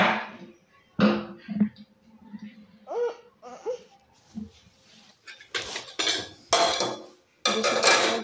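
Dishes, pots and pans clatter and clink in a home kitchen, with bursts of scraping and rinsing at varying loudness, interspersed with a voice and a babbling child.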